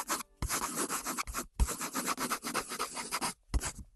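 A pencil scratches across paper, close and fairly quiet, in quick irregular strokes with short pauses between bursts of writing.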